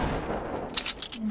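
Gunfire in the video game Fortnite: a quick burst of several sharp shots in the second half, fairly loud over steady game background noise.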